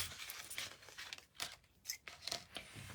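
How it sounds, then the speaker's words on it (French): Scissors snipping through folded paper strips for a simple handmade gift box, a few short close crisp cuts and crinkles spaced through the moment, with no talking. "avec le ciseau, on va venir découper nos bandes ici"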